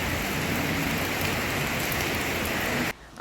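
Steady heavy rain falling outdoors, loud and continuous, cutting off abruptly near the end.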